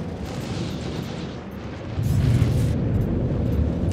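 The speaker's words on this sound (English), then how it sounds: "I'm gonna fire some shots down at him as well" Ship weapons firing in the Star Citizen space game during a pirate swarm fight against a Hammerhead, a dense low rumbling barrage that swells louder halfway through and continues steadily, with no talk.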